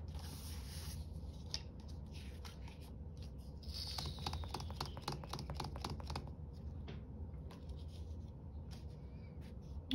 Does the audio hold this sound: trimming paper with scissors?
yes